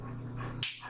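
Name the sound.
dog growling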